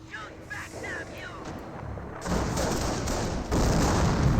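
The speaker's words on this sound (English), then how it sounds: "They are shooting at us!" Battle gunfire in Company of Heroes 1, with Panzer Elite forces engaged, heard as a dense rattle of rifle and machine-gun fire with distant booms, under a soldier's shouted voice lines and background game sounds.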